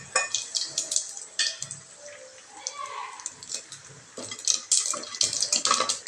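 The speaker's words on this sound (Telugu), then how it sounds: "ఇప్పుడు పోపు గింజలు వేసేసుకుందాం" Crackling, popping sizzle in bursts, like seeds spitting in hot oil, with a faint voice in the background.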